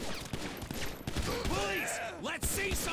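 Rapid video game gunfire crackles in short bursts of shots amid other game sounds, with a player talking over it.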